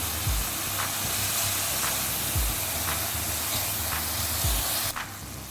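Pizza toppings fry in a pan with a steady, close hiss and sizzle. Faint periodic taps from stirring sound under the sizzle, which cuts off abruptly near the end.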